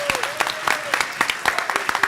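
Applause from a conference audience, a steady patter of claps from a crowd in a hall, moderately loud and continuous throughout.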